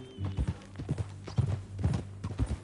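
Hooves of a horse clip-clop in Red Dead Redemption 2, a clear, evenly paced trot of close, distinct knocks repeating roughly every half second, with a faint voice behind.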